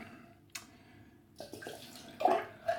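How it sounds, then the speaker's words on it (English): Water sloshing and spilling out of a shaving bowl onto a wet shaving brush in a few short splashes, close by, with quiet pauses between them. "I pour out the water."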